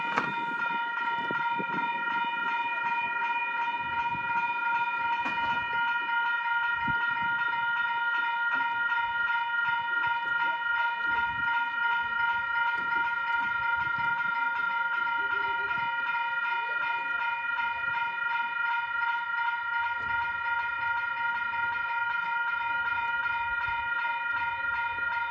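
A non-stopping freight train runs past the short platform at Wondabyne with a steady, loud rumble and a sustained tonal whine for the whole stretch, sounding close and continuous.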